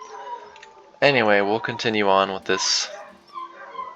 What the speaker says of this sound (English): I got some dogs that are pretty loud